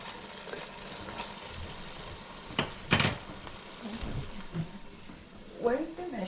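Arroz con gandules ingredients with olives cook in a pot, giving a steady sizzle and stirring with a few sharp utensil clinks; people talk over it.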